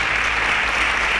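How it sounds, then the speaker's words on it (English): A burst of steady clapping from a quiz show audience, dense and even throughout. "A round of applause for them."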